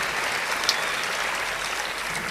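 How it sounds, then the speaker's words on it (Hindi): Audience applause at a Hindi poetry recital, a dense steady clapping that stays even throughout at a moderate distance, with no voices over it. "और घनत्व बढ़ाइए तालियों का।"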